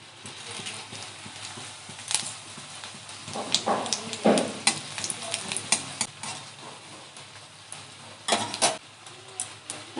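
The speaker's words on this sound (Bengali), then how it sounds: "ফোড়নে দেব তেজপাতা, শুকনো লঙ্কা আর ফোড়ন।" Bay leaf, dried chillies and whole spices spit in hot mustard oil in a kadai, a close crackling sizzle punctuated by frequent sharp clatters and knocks from stirring.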